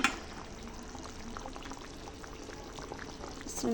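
Pieces of mirka fish go one by one into a pot of boiling curry with potatoes, radish and tomato, giving a steady close bubbling and simmering with soft splashes and no talk.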